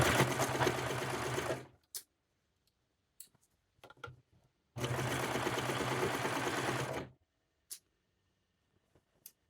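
A serger sewing machine stitching fabric runs in two loud, steady whirring bursts of about two seconds each, separated by quiet gaps with a few small clicks and handling taps.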